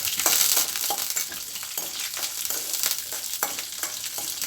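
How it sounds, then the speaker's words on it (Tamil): Urad dal, ginger and dried chillies sauté in hot oil in a pan for a radish chutney, a close, steady crackling sizzle broken by repeated scraping stirs. "சேர்த்துட்டு காஞ்ச மிளகாய் நம்ம சேர்த்து கொஞ்சம் நேரம் வதக்கிக்கிடுவோம்."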